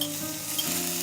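Prawns sizzle in hot olive oil in a pan, a steady, bright frying hiss that carries through with a few small spits and pops, close and alone with no talk.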